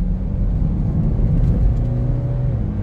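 A 2015 BMW X3 xDrive20d F25 diesel SUV drives along with a steady low engine drone and a gear shift partway through, heard from inside the cabin at a constant level with no talking.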